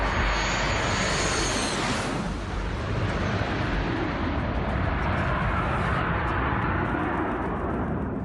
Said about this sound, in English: Mirage 2000 fighter jets, MiG-29 air superiority fighters and Su-30s have been carrying out a number of sorties.